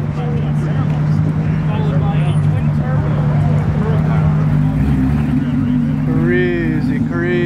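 Supercars roll into a Cars and Coffee meet, a steady engine drone with a low idling hum, rising and shifting as cars pass close, while people talk over it throughout.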